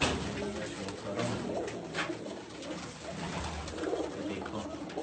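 Pigeons coo softly in a loft among fancy breeds such as Teddy and Rampuri birds, a continuous low murmur of cooing with scattered wing and movement noises, fairly faint throughout.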